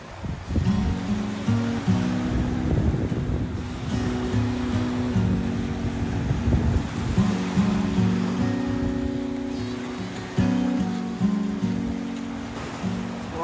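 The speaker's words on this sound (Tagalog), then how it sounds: "so dito tayo sa dagat" Sea waves wash steadily onto a beach in Bicol, a continuous surf roar with rolling swells and gusts of wind buffeting the microphone, with no voices.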